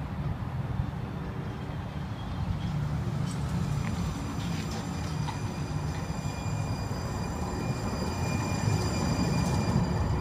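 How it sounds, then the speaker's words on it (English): An Atlanta streetcar runs along Edgewood Avenue, giving a steady, fairly loud rail rumble and rattle that holds for the whole stretch and swells slightly toward the end. No one speaks. "you'll see a Atlanta streetcar."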